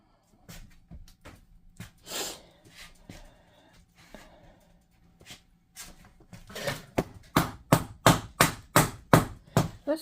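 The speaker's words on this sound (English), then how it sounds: "Let's try a different type of hammer and just see." Hammer blows driving laminate flooring together to close slip gaps: a few scattered knocks, then a rapid, steady run of about nine sharp, close strikes. No one speaks.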